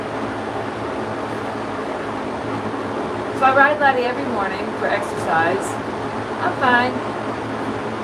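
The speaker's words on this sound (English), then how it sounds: "Sorry about the fan noise." An electric fan runs on a hot summer day, producing a steady, even whooshing hum that fills the background while someone talks over it.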